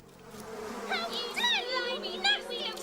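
A voice imitates the buzzing of bumblebees in a children's story reading, with wavering buzzy tones rising and falling over a steady hum.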